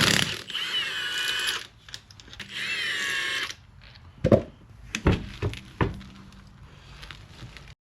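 Lug nuts come off a Jeep Cherokee KL rear wheel under a power tool, two loud whirring bursts followed by sharp metallic clanks and rattles as the nuts and tool are handled, close by with no talk.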